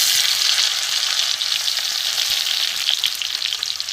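Chopped garlic and tomato fry in hot mustard oil, a loud, dense, continuous sizzle that stays even throughout with no voices.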